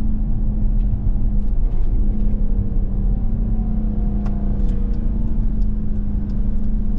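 A 2023 Dodge Durango R/T Premium AWD engine revs steadily in a close, loud, sustained drone with a low rumbling hum throughout, a few faint clicks above it.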